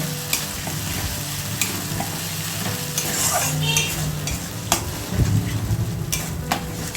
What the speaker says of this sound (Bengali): মশলাটাকে খুব ভালোভাবে তেলের সাথে মিক্সড করে নেব